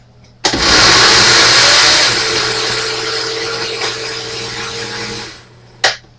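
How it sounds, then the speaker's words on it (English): A blender switches on with a sudden loud whir, runs steadily for about five seconds, then winds down and stops, followed by a brief clunk. "Turn the blender on."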